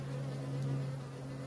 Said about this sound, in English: And I got a bunch of guard bees all over me, so I'm gonna walk off.